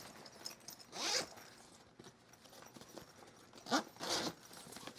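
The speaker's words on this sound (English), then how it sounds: "And then I open up the zipper, get the zipper pulls out of the way." A zipper on a sewn drop-liner duffle bag is pulled open in two quick, close, raspy bursts separated by quiet handling rustle, with no talking.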